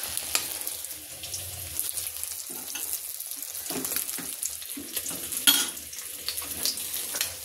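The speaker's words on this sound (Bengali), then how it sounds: "আর এদিকে মাছ ভাজা করছি" Fish fries in hot oil in a home kitchen pan, with a steady close sizzle broken by stirring clinks and utensil clatter throughout.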